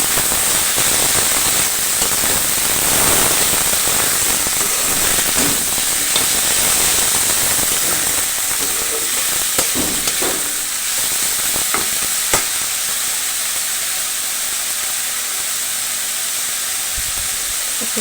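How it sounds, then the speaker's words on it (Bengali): Bitter gourd (karela) frying in a pan while being stirred, a loud, dense and continuous sizzle heard close up, with scraping from the stirring and occasional sharper crackles running all the way through. "আমার করলা ভাজি প্রায় হয়ে গেছে, নেড়ে চেড়ে নিচ্ছি"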